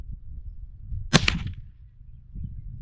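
A scoped rifle fires once at a paper target: a single sharp crack with a short ringing tail, standing out against quiet low background noise.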